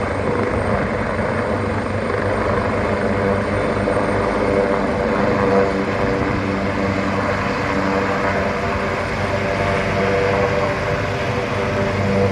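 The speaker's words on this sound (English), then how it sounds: "Still hasn't taken off yet, you can hear it in the background" A helicopter idles with a constant heavy rotor drone and engine rumble, loud and unbroken throughout, never rising as if lifting off.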